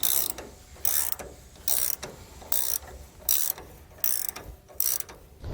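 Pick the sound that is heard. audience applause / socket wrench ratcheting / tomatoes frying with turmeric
socket wrench ratcheting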